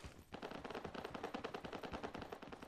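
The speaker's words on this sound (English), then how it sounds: "Gunfire from over that way." Rapid machine-gun fire in the video game Lost Light 2, a dense burst of shots rattling off in quick rhythm, muffled and distant-sounding, continuing steadily throughout without speech.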